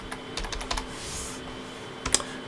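Several quick keystrokes on a computer keyboard, tapped in short bursts with pauses between them, entering text for a glassware engraving job.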